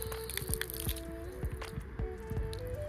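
Water from a park drinking fountain in Japan spatters and drips in quick, wet squishy bursts, close and fairly quiet, repeating unevenly with no talking.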